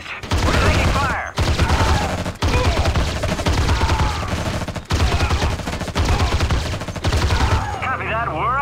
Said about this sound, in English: Be advised. We're taking fire.